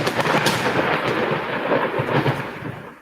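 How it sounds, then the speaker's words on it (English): A thunder sound effect plays in the background, a loud, continuous low rumble that rolls on for a few seconds and fades slightly at the end. "Did you guys hear the thunder?"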